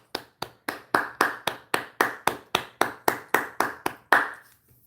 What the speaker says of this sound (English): 30 claps for you, Nettie.